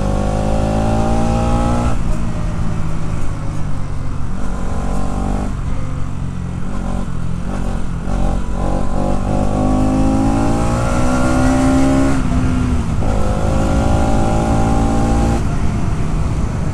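A 2024 Bajaj Pulsar NS200 motorcycle engine revs and accelerates loudly and continuously, its pitch climbing and dropping through several gear changes, close to the listener.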